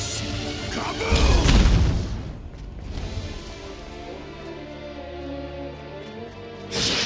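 A Kaboom explosion spell goes off in the Dragon Quest game Infinity Strash: The Adventure of Dai, a heavy booming blast with a whooshing rush that fades into a lingering rumble, and a second impact lands near the end.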